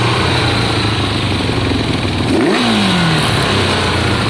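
Kawasaki ZL600 motorcycle engine running, previously fixed from firing on two cylinders, with a loud steady drone close by and a brief throttle blip midway, no voices.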